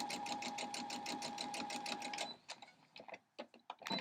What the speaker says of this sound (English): Sew off the edge